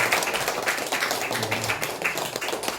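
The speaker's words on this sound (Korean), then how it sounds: "우리 다시 한번 큰 박수 하겠습니다." Church congregation clapping during a Parents' Sunday service marking the church's 71st anniversary, a dense, steady patter of many hands close by, with no talking over it.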